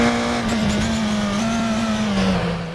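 A Formula 3 race car in the RaceRoom racing game holds a loud, steady engine drone near the top of sixth gear, its pitch easing slightly and dipping, with faint tire noise and no talk.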